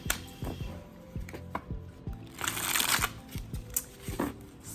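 Tarot cards being shuffled by hand in a series of quick riffles and taps, crisp and close, with irregular bursts and brief pauses between them.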